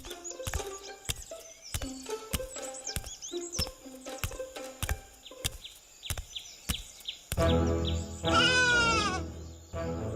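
A little lamb bleats in a series of short, repeated calls near the listener, ending in a louder, drawn-out bleat, with faint birds chirping in the background.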